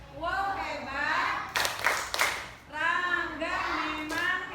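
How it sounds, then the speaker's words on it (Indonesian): Children doing a rhythmic clapping cheer, sharp bursts of claps in time between stretches of sing-song chanted voices, with an adult voice leading. "Coba kita tepuk hebat dulu"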